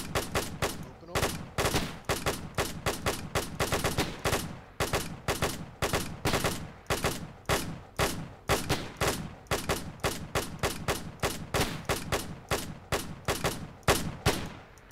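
Bren light machine gun in ARMA 3 with a WW2 mod, firing suppressive fire during a 1945 Canadian push: sustained rapid bursts of loud, close gunfire repeating steadily with brief pauses between strings of shots.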